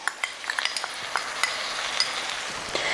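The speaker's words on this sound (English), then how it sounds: "let's mix this all in together, and we are going to cook this again for a minute or two" Pav bhaji with ginger chili paste, Kashmiri lal mirch, pav bhaji masala and goda masala is stirred in a hot pan, a steady sizzle broken by light scraping taps of the spoon.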